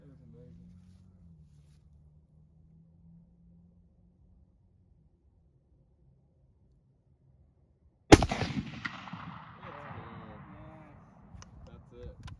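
A single loud gunshot fired from a truck at a pumpkin cracks sharply after several seconds of quiet low rumble, then a long ringing tail and debris clatter follow, with faint scattered knocks afterward.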